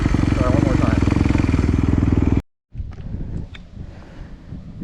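A dirt bike engine at harescramble practice revs hard and loud, its dense pulsing note climbing quickly through a gear change, then cuts out briefly before returning as a rougher, lower, wind-buffeted rumble.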